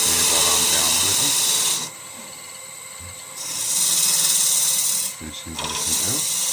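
A Balinese teak vase is smoothed on a wood lathe. Loud, hissing scraping comes in two long bursts, each followed by a quieter pause with lower rubbing.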